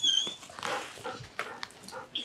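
A police dog barks and whimpers in short excited bursts during a tense arrest, close and loud, with brief noisy scuffles between the calls.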